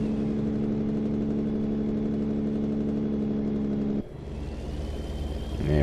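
Engine braking on a heavy truck in American Truck Simulator: a loud, steady low droning rumble with stacked harmonics for about four seconds, then a sudden drop to a softer engine hum and road noise that swells again at the end.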